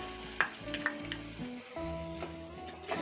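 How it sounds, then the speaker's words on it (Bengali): Onion, garlic and ginger paste frying in mustard oil, a soft close sizzle with a few light spatula scrapes over a faint background hum. "নেড়ে চেড়ে কষাই নেব 2 মিনিট"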